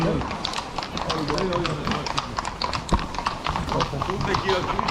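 Hooves of a ridden horse clip-clop at a steady, brisk rhythm nearby, with people talking over the hoofbeats throughout.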